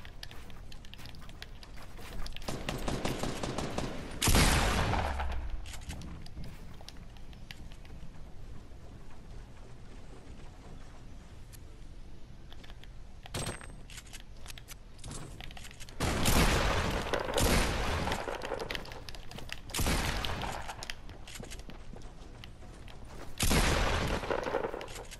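Bursts of gunfire aimed at the player in a video game arrive in loud, broadband volleys at roughly 4, 16–18, 20 and 24 seconds over a steady mid-level game soundscape, with no talking.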